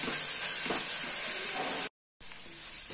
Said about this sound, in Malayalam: സവാള നന്നായി വാഴട്ടെ.